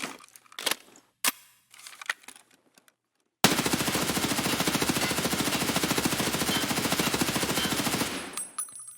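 Sustained automatic fire from an HK rifle in the video game Escape From Tarkov: one loud, rapid burst lasting about five seconds after a few scattered earlier shots and clatter, then cutting off.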